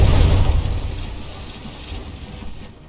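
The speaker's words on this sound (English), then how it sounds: "a shower of explosions" A shower of mortar shell explosions hitting a battleship in the naval combat game From the Depths, a heavy booming burst at the start fading into a rumbling, crackling tail of scattered blasts.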